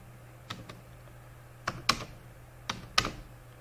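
Someone types a program on a computer keyboard: a handful of sparse, crisp keystrokes in small clusters, close and fairly quiet, with no talking.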